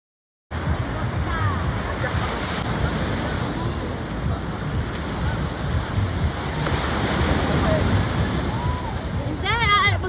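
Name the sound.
sea waves on the shore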